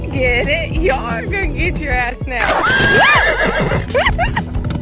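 A mare neighs loudly in several rising and falling whinnies, close by, with hoof clip-clops and other commotion underneath.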